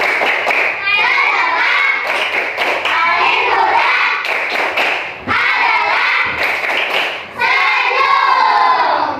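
Schoolchildren in a classroom perform a rhythmic clapping chant, loud bursts of claps and thumps mixed with young voices chanting in time, pausing briefly between phrases.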